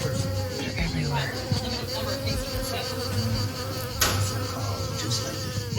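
A swarm of mosquitoes hums outdoors near the microphone, a steady whining buzz that continues throughout, with faint knocks and a brief sharper noise partway through.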